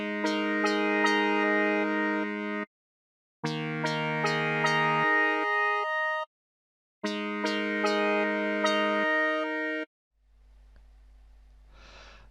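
Digital synthesizer playing rich, bright polyphonic chords, three sustained chord phrases of about three seconds each separated by short silences, close and clean, then a faint low hum at the end.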